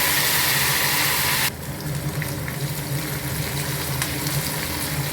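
Curry leaves, sundakkai and manathakkali sauté in oil for vatha kuzhambu, opening with a loud, bright hiss that suddenly drops to a softer, steady sizzle with faint clicks.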